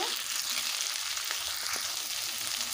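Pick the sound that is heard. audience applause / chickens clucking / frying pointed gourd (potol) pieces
frying pointed gourd (potol) pieces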